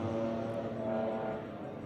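BMW race cars in a race series at Red Star Raceway scream past on track, engines revving high and loud with sustained tonal whine and a slight fade toward the end.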